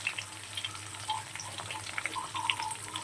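Water runs from a tap in a kitchen at low volume, giving a soft, continuous patter with light splashes and drips and no voices.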